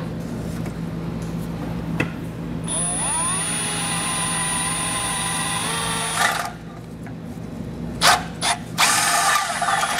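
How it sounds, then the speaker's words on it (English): A power drill whirs steadily for several seconds with rising and falling pitch, then stops, followed by a few sharp clicks and short bursts. "we can come back with our drill bit and create all those openings."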